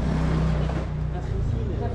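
Motorbikes ride past along a busy Marrakesh street, their engines making a continuous close rumble mixed with traffic noise while people talk over it.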